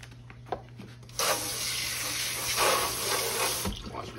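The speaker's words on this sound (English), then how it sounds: "Wash my hands off here." A kitchen sink tap runs while hands are washed, a close steady splashing gush of water that starts after a couple of soft clicks and continues for a few seconds.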